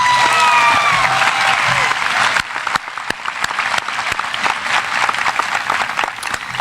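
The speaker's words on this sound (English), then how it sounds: "Can we please give everyone a big round of applause?" Audience applause fills a graduation ceremony for the class of 2025, a dense, loud wash of clapping from a large crowd that drops slightly after a couple of seconds and carries on steadily with scattered sharper claps.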